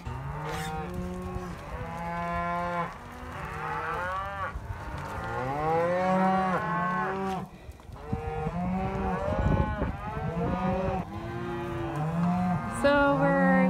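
Cattle moo loudly and repeatedly while being sorted in a small pen that was once a chicken yard, many overlapping calls from several animals close by, long drawn-out bellows following one after another with almost no pause.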